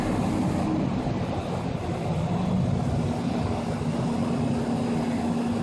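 An outdoor air conditioner runs near the Hillsborough River in Tampa, Florida, a steady droning hum with a faint tonal whine under broad airy noise, moderately quiet and continuous with no voices.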